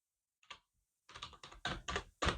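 Keys clatter on a computer keyboard as a terminal command for the SRA Toolkit is typed, a short lone burst followed by a steady run of quick clustered keystrokes, close and fairly soft.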